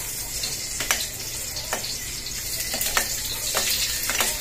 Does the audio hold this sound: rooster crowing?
no